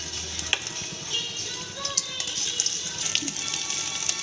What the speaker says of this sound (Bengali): তেলটা গরম হয়ে গেছে। এবার আমি পনিরগুলো দিয়ে দেবো।